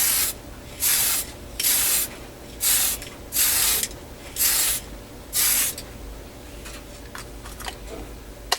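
An airbrush sprays paint onto a 1967 Chevelle SS model body in six or seven steady hissing bursts of roughly half a second each, separated by short pauses, close and loud, followed by quieter faint ticks.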